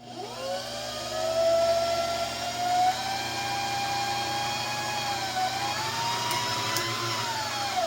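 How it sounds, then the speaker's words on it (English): A sewing machine winds a bobbin with a steady motor whine that rises and dips slightly in pitch as the pedal is held down. It is close and fairly quiet, with no talking. "we're going to push our foot pedal or our gas pedal, and we're going to just wind the bobbin"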